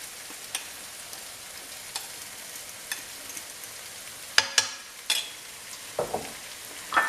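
Couscous being added to a hot pan and stirred, a soft quiet sizzle punctuated by sharp scraping and clinking strokes of a utensil, growing busier toward the end.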